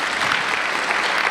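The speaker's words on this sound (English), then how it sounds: "A round of applause for everyone." An audience at a satsang claps together in dense, steady applause, a full wash of many hands heard close and continuous.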